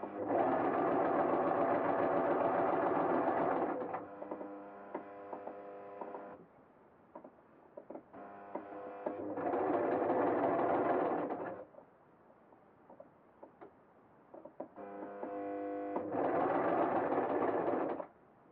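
A serger sewing machine stitches fabric for a T-shirt hoodie, its motor whirring in three steady bursts separated by quieter pauses of softer mechanical clatter and creaking.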